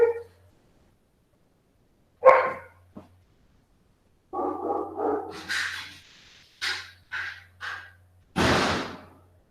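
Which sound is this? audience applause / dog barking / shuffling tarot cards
dog barking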